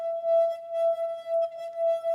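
A glass rings as it vibrates, sustaining one clear, pure tone with faint overtones that swells and dips gently in loudness, quiet and alone.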